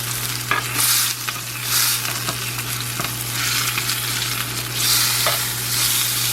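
Loud, continuous sizzle of a vegan seitan roast frying in a pan and being basted with butter, with crackling spatters and a few sharp clinks of utensils over the steady hiss.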